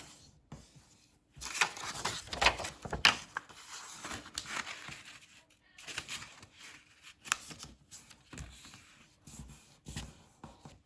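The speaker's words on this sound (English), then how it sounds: "now I'm going to fold on all of these lines, all of them" Sheets of paper folded one after another along scored lines for a food-van craft model, giving close, dry crinkling and creasing rubs in irregular bursts with short quiet gaps, no talk.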